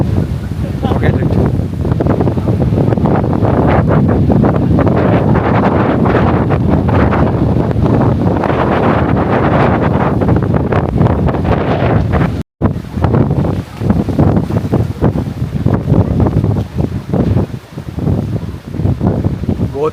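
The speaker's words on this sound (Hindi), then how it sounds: "बहुत ही तेज हवा चल रही है," Strong wind buffets the microphone outdoors in Mulshi near Pune, a loud continuous roaring rumble with gusting surges and a brief cutout midway, with someone talking faintly underneath.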